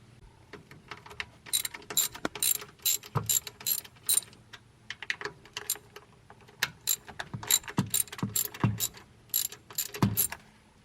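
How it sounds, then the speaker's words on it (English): A ratchet wrench removes bolts on a Kubota ZG123S zero-turn mower, giving repeated bursts of sharp metallic clicking in quick, uneven runs with short pauses, fairly close and clear with no talk. "So we're going to take these bolts off."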